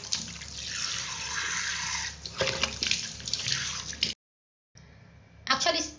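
Running water pours and splashes steadily as a face is rinsed, stops abruptly for a moment, then resumes with louder splashing near the end.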